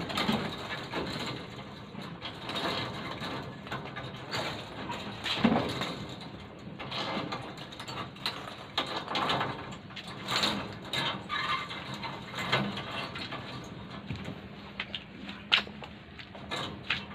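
A ratcheting tool twisting combat wire, giving a continuous run of close mechanical clicks and grinding turns with small bumps, and no talk over it.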